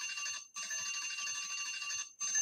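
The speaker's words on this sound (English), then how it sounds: "Well, there's the bell, Kojo." A bell rings in steady, sustained bursts with two brief breaks, bright and continuous, fairly faint, with no talking over it.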